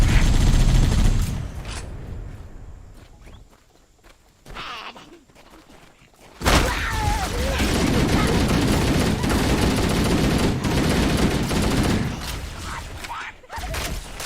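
Video game gunfire crackles through the scene in loud bursts, with one strong volley at the start and a long, dense stretch of shooting in the second half. Breathy vocal sounds appear between the bursts.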